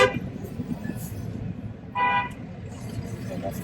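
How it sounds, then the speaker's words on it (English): A bus passes along a busy New York City street, its engine rumbling amid traffic while a short horn toot sounds midway and other distant honks come and go. "that's the bus coming through"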